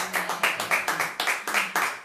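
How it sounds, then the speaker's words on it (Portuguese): A church congregation claps in unison, with about nine sharp, evenly spaced claps in a quick, steady rhythm and no talking. "dê um aplauso bem forte ao Rei"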